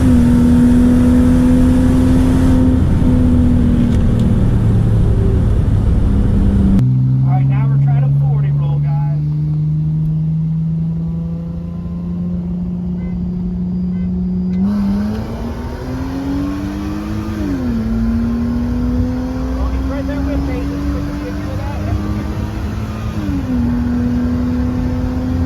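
A Mercedes SLK32 AMG and a CLS55 AMG accelerating in Mexico, engines rising in pitch through several gear changes, loud and close, the steady roar dipping briefly at each shift before climbing again.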